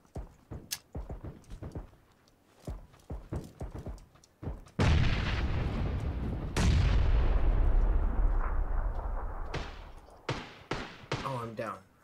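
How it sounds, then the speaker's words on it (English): Grenade explosions in the PUBG video game: two heavy booms that roar and slowly decay, framed by sharp gunshots and thuds before and after, with voices talking in between. "Throwing grenades."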